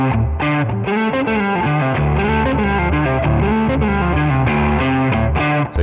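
A distorted electric guitar plays a riff, loud and continuous with a thick, crunchy tone and repeated chugging notes, with no voice over it.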